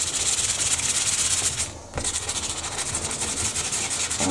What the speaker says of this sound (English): I attack it with a little tiny bit of sandpaper